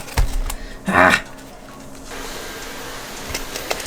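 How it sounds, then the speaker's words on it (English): A paper hole punch is pressed down through sheets at close range, a short sharp crunching clack followed later by fainter clicks and handling rustles in a quiet room. "I gotta punch all these stupid holes out"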